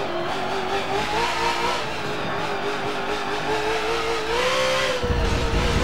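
A GT race car in Forza Motorsport 7 accelerates hard, its engine note climbing steadily and loudly with a rising whine that dips briefly as it shifts, and no voices are heard.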